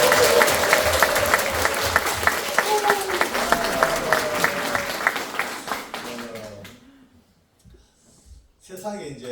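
Church congregation applauding for visitors from other churches, with dense clapping that fades after about six seconds and then gives way to someone speaking.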